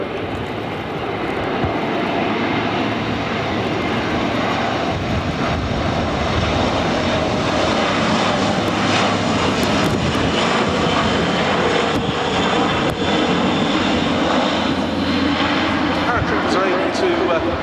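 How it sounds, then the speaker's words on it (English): A Luftwaffe Airbus A400M flies past at an air show with its rear ramp open, the propeller engines droning loudly and steadily throughout while an announcer talks over the roar. "Now the aircraft being brought back in simulated drop condition."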